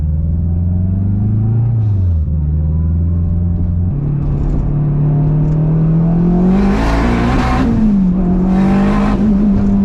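A boosted K24-powered AWD Acura RSX Type S accelerates hard, its engine note rising steadily in a loud, close drone with a brief dip at a shift, plus turbo hiss bursts near the end.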